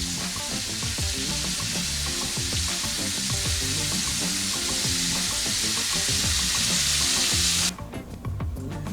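Bacon-wrapped, mozzarella-stuffed meatballs glazed with honey sriracha soy sizzle and crackle loudly and steadily in the pan, with stirring sounds and an abrupt drop in the hiss near the end.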